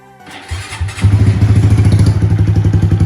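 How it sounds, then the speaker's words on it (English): A small Honda Grom motorcycle fires up after a brief crank, then settles into a loud, close, steady idle with an even, rapid thumping putter. "Check out this little Grom. She runs."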